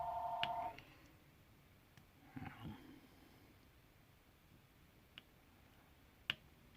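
A phone lets out a short electronic buzz right at the start. Afterwards the room goes quiet except for a few faint clicks and a soft rustle.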